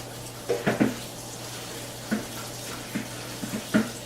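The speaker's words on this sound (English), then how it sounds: "just make sure that you're washing the kale," Kale sits in a strainer under running water, with a soft continuous wash broken by a few close splashes and clinks as the leaves are handled, and no speech.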